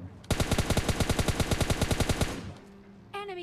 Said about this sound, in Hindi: यहीं से इसको मस्त तरीके से स्प्रे देके ख़त्म कर देता हूँ